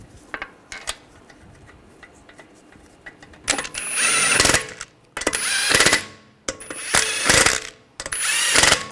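Lug bolts being run down on the wheel of a 2009-2010 BMW 535i xDrive, four loud bursts of rattling, whirring tool noise separated by brief pauses, after a few seconds of light clinks and handling.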